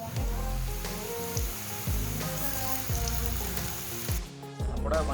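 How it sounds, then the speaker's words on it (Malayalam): Okra frying in hot oil, a steady dense sizzle with periodic low thumps and a brief dip near the end, no talking. "നമുക്ക് ബാക്കിയുള്ളതും കൂടി ഇതേപോലെ ഫ്രൈ ചെയ്തിട്ടെടുക്കാം."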